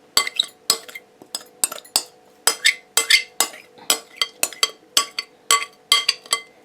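Date cake batter being mixed by hand in a bowl with a spoon, no beater: a dozen or so close, crisp clinks and scrapes in a steady stirring rhythm, with no talking.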